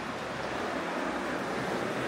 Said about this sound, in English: Can you hear that water?